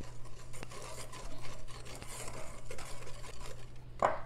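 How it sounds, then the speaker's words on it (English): Dry batter of flour, sugar, baking powder and salt whisked in a bowl for corn dogs, a soft continuous rasping and scraping with a faint clink near the end. "And just whisk these together."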